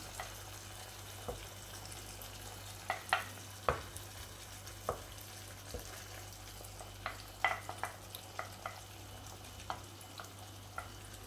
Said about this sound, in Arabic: دابا من بعد ما طابت البصله غادي نضيف ليها الدجاج